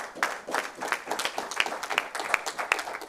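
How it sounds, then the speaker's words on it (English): Small audience at a secondary schools food safety debate competition clapping in a brief, fairly quiet round of applause, individual claps audible in an uneven patter. "I too want to give you guys a second third round of applause"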